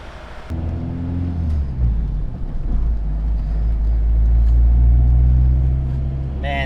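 A Honda Civic EG hatchback with a turbocharged B20 engine hums and rumbles steadily up close, its low drone rising slightly as the car moves along.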